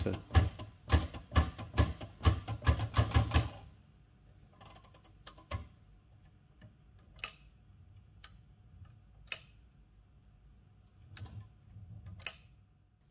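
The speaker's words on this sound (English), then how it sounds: "this is the mechanism of the bell." A 1914 Olivetti M1 typewriter runs in close-up: a rapid burst of key and carriage clatter, then a few isolated mechanical clicks and three crisp, bright bell dings spaced a couple of seconds apart.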